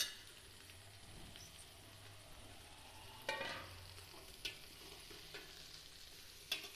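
Greens (kumutti keerai) stirred in a hot pan with a spatula, quiet scraping and soft sizzling broken by a few sharp clinks against the pan, close by and with no voices.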